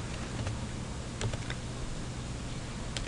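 Keys tapped on a computer keyboard while setting page margins in a word processor, a few sparse, close clicks spread across a quiet background.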